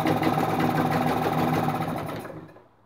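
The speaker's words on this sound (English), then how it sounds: "I'll stop the engine." A Vire 12 engine runs with a steady, busy mechanical chatter at close range, then is switched off, its sound falling away over the final half second into near silence.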